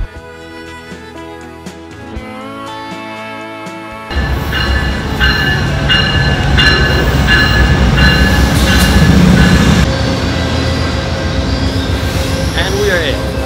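A passenger train runs with a loud, continuous rumble and rattle from inside the carriage, with occasional squealing, after a quieter opening with music and ambient sound.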